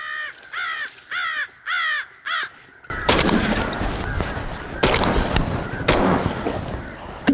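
Crows caw in rapid bursts, then several loud gunshots crack over a noisy field during a crow hunt, with sharp blasts near the middle and end.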